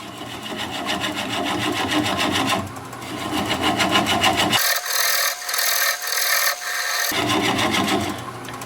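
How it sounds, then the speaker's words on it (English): A swept-back bowl gouge shaves a wooden bowl spinning on a lathe at about 200 RPM, giving a steady rasping, scraping hiss with a brief cleaner, thinner stretch of cutting in the middle. "I'm going to switch to a swept back bowl gouge so that I can get in there closer and tighter."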